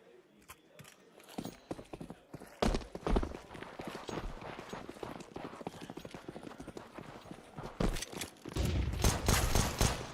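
In a Counter-Strike match, pistol shots crack again and again, with dense bursts and rapid clusters of gunfire layered over in-game commotion. The firing grows heavier toward the end.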